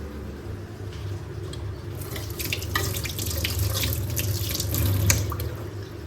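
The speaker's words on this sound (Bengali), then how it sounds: "হাতটা ধুয়ে নিয়েছি" Hands being washed under a running kitchen tap, a steady rush of water with splashing and rubbing that grows slightly louder and busier partway through.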